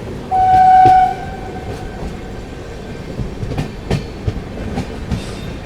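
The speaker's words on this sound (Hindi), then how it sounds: "ट्रेन अपनी अराइव कर रही है कुरुडवाड़ी" Chennai Express train arriving at Kurduwadi station, a loud steady horn blast near the start fading into rumbling wheels and sharp rhythmic clacks of carriages rolling over rail joints.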